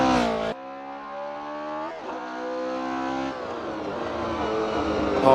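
A race car brakes hard into a corner, its engine note dropping and stuttering, then revs back up and accelerates away with a steady climbing whine, loud and close with no talk.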